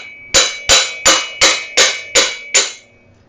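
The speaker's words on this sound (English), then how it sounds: "it allows you to just get a hammer and drive the cup out" Seven sharp metal hammer blows driving a headset cup out of a 1990s Trek 930 bicycle frame, struck at a steady, even rhythm, each ringing briefly before the next, loud and close with no talk.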